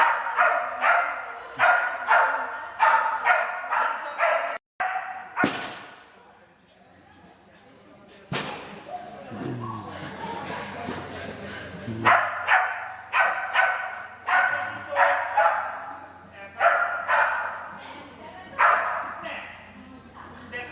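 A dog barks during a training session, with repeated loud, close barks in rhythmic bursts, a short pause, then another run of barks alongside people talking.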